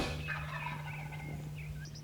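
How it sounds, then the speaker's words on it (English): A wild turkey gobbles on a spring morning with a single bird roosted about 100 yards off, its rattling calls carrying steadily across the open air over a constant low hum, with no talk. "Nothing gets your blood pumping any more than a gobbling turkey."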